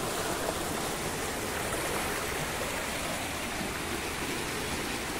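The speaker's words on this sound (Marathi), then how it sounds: "त्या व्हाळाचा खळखळीत पाणी हे दिसता मंडळी बघा" Gushing water rushes along a swollen Konkan stream in steady, dense, unbroken hiss and burble, fairly close and alone, with no voices.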